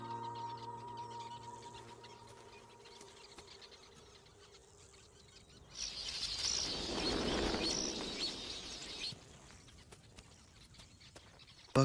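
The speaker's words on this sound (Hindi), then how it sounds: "पक्षी कहीं नजर नहीं आ रहे, लेकिन उनकी आवाजें तो कब से इसकी कानों तक पहुंच चुकी हैं।" Unseen birds call in a desert at dusk, faint chirps under a low ambient background, followed midway by a louder, broader burst of sound that swells and fades, with no talk.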